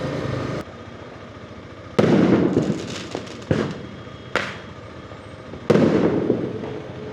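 Loud Diwali fireworks go off in Mumbai streets, heard from a motorcycle. About four heavy bangs and crackling bursts ring out at irregular intervals over a low traffic drone.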